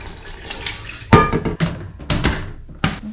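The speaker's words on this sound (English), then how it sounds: "you activate this pump here. And that flushes that." A hand-pump toilet in a national park toilet block in Tasmania is flushed, giving a sudden rush of water with clunks, then a few more bursts of pumping and gushing over about three seconds, close and fairly loud.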